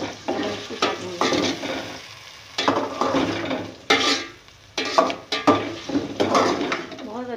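Yogurt mixed with nutmeg and mace is stirred into a pot of beef yakhni pulao, giving repeated close scraping and clattering strokes of a spoon against the pan.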